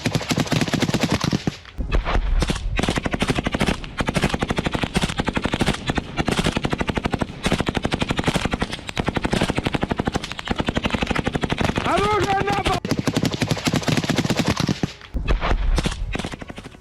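Gunfire during a Russian infantry attack in Ukraine rattles in loud, dense, continuous machine-gun bursts that barely pause, close and harsh throughout.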